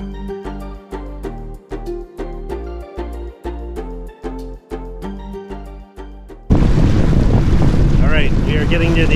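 A Yamaha VX Cruiser HO jet ski on a river pulses with a steady rhythmic engine drone, then surges into a loud, continuous rush of wind and spraying water as it speeds off.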